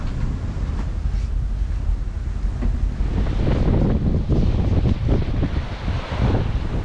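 Wind gusts across the microphone while a sailboat cruises Greek waters, with waves and surf washing against the hull in a continuous loud rush that grows choppier toward the end.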